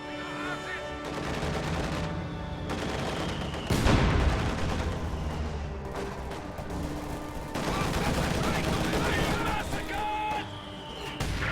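Busy combat in a WWII strategy video game, with steady overlapping gunfire and a heavier artillery blast near the middle, loud and continuous, while voices speak over the fighting.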